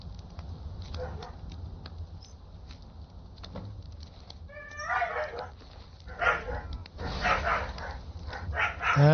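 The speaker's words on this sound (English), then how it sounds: "That's my dog and the neighbor dog." Two dogs, a pet and a neighbor's, bark outdoors at a middle distance. The barking comes in bursts that grow louder and more frequent in the second half, over a low background hum, with no talk.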